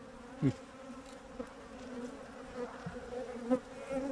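Honey bees buzz steadily during an inspection of an overwintering hive, a close, continuous droning hum with a few louder individual bees passing near, and no talk.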